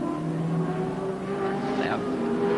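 V8 touring cars race at Symmons Plains, engines droning and revving loudly in a steady wash of noise, with a commentator speaking over them.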